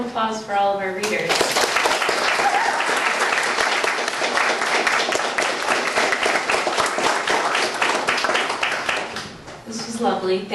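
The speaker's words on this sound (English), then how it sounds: "Let's have another round of applause for all of our readers." An audience at a university poetry reading applauds the readers with dense, sustained clapping for about nine seconds, fading out at the end, with brief talk at the start and finish.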